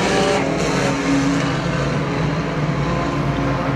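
IMCA Sport Compact race cars roar off at the green flag of a main event at Perris Auto Speedway, a dense, loud, continuous wall of engine noise with crowd-level rumble and no pauses.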